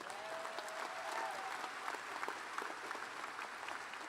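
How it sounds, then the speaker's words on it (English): Applause from a graduating class and guests at a university undergraduate commencement ceremony, a sustained wash of many hands clapping with a steady, moderately distant texture throughout. "You can applaud that too."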